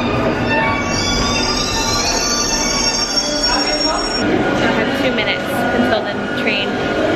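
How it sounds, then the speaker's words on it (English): A London Underground Northern Line train pulls into the station with loud, shrill wheel squeal over a rumbling roar, the squealing fading partway through as the train slows, while a voice talks faintly beneath. "I need to make sure that's not my train."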